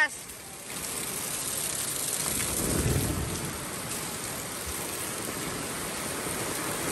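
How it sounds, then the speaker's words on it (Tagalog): Heavy rain pours steadily with a broad, constant wash, and a loud rushing river runs fast beside it on a farm. A low swell rises briefly midway, and there is no clear talk. "Ang bilis na ng tubig dito"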